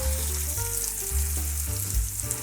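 A T-bone steak sears in a hot pan with a loud, continuous close sizzle and crackle, steady throughout with no talking.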